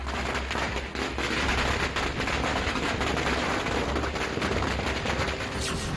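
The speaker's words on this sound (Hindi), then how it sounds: "बंदूकों ने उगली आग, तोपों ने दागे गोले।" Dense, continuous bursts of gunfire with heavy booming cannon blasts, loud and chaotic throughout, like a distant battle or massed firing, during a traditional village celebration with firing and fireworks.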